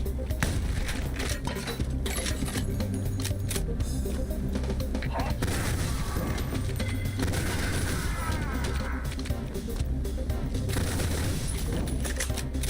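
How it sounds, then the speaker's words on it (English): Sustained SMG fire in the retro shooter Ion Fury, a dense run of rapid shots with booming impacts and clinking shells, continuous and loud across the whole stretch amid game noise. "The SMG is really good in close quarters, as you might have guessed."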